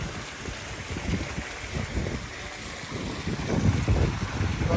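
Fountains on either side of a campus pavement, a steady broadband splash and rush of falling water with gusty wind buffeting, rising slightly toward the end, with no talking.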